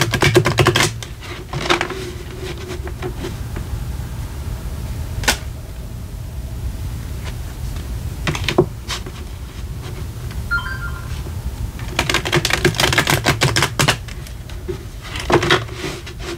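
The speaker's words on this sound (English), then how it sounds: "Let me just shuffle the cards two more times" Tarot cards are shuffled in several quick, crisp riffling bursts separated by short pauses, close and fairly loud.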